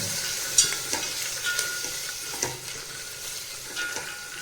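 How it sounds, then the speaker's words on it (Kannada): Green peas and onion fry in a little oil for a home-style veg pulao, giving a steady close sizzle with occasional stirring clicks and scrapes of a spoon in the pan. "ಬಟಾಣಿ ಸ್ವಲ್ಪ ಇರೋ ಎಣ್ಣೆಯಲ್ಲೇ ಫ್ರೈ ಆಗಲಿ"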